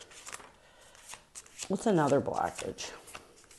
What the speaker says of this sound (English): These cards don't shuffle out as easy as I like.